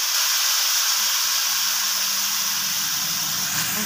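Oil heating in a pan before mushrooms are fried gives a steady, close, broadband hiss and gentle sizzle that holds unchanged throughout, with no voices.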